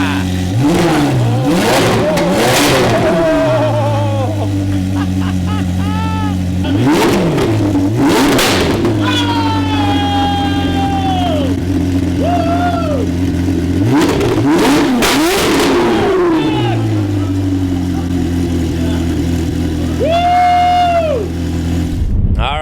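Ferrari engine revving loudly in repeated bursts, climbing and falling in pitch with strong harmonic roar, mixed with music-like tones and occasional voices nearby.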